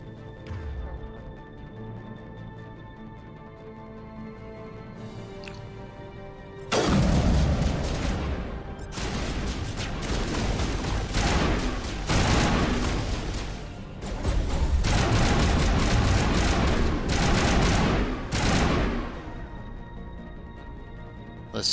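Heavy gunfire and booming blasts in a Mass Effect firefight, dense bursts of shots that come in long, loud stretches after a quieter opening.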